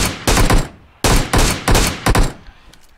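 Loud PUBG Mobile gunfire in three close bursts of rapid automatic shots separated by brief pauses, with the last burst trailing off into quieter scattered pops.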